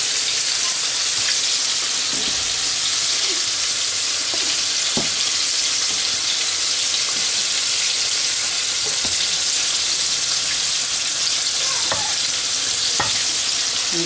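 Pieces of flour-coated fried chicken sizzle steadily in hot oil throughout, a dense, continuous frying hiss with occasional light clicks and pops from stirring or turning pieces, no talking.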